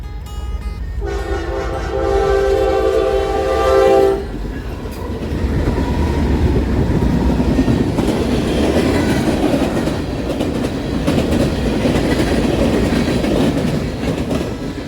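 Norfolk Southern SD60E diesel locomotive number 6950 on the D&H line sounds a loud multi-tone horn for a few seconds, then its train rumbles past steadily with rail clatter for the rest.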